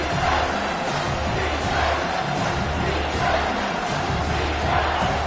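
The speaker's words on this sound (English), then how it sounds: "decibels rising as the crowd gets behind this defense on third down" Video-game stadium crowd in a college football game swells into a loud, steady roar with cheering, continuous throughout as fans rally behind the defense on third down.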